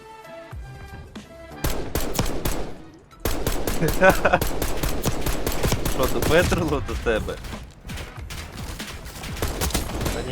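Loud, rapid bursts of automatic gunfire in Call of Duty: Warzone rattle almost nonstop, with brief pauses, while someone speaks briefly.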